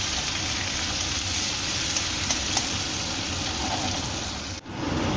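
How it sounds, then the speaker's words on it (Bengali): A ground spice paste fries in a wok, a dense, loud, unbroken sizzle with faint stirring scrapes, running steadily up close before a brief dip near the end. "মশলা দিয়ে খুব ভালো করে বেশ কিছুক্ষণ কষিয়ে নেব।"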